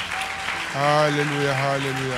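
A church congregation applauds and cheers in praise of the Lord, a steady wash of clapping that runs beneath a voice singing out in worship throughout.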